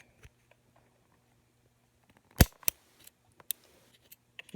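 Scissors snip through an iPhone Lightning cable, giving a few sharp, crisp cuts close by with quiet gaps and small fumbling taps around them.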